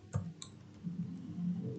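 Keys on a computer keyboard are pressed while entering MySQL commands, giving a few sharp clicks early on, one of them the enter key, over a steady low room hum.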